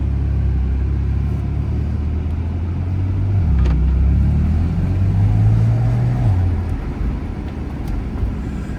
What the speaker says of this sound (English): Car does have that nice throaty sound that we get